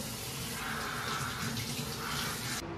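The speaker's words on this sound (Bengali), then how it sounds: "আর এই জলটা পুরো গায়ের মধ্যে এসে পড়ছে" Tap water running steadily onto dishes in a sink, a continuous close splashing rush that cuts off abruptly at the end.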